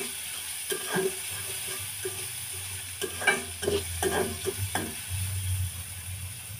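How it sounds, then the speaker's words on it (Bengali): Chopped onions fry in oil, a quiet even sizzle broken by a cluster of sharp scraping strokes from a spatula stirring through the pan, near and without voices. "পেঁয়াজগুলো ভেজে নিব"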